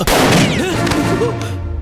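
A gunshot in a Malayalam movie scene, one loud blast at the start that rings out and fades slowly over a second and a half, with no talking.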